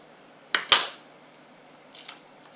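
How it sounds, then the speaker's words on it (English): Two quick crisp knife chops cutting the ends off garlic cloves on a cutting board, then a couple of softer taps a moment later, with no talking. "an easy way to cut the garlic is cut the little ends off"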